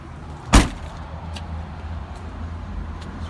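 The rear tailgate of a 2015 Honda CR-V opens with a single sharp mechanical clunk, followed by a low steady background rumble.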